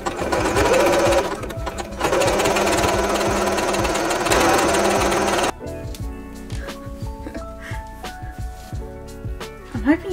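A sewing machine hems elastic into an upcycled garment, whirring steadily and loudly for several seconds before stopping. Quieter handling noises and clicks follow.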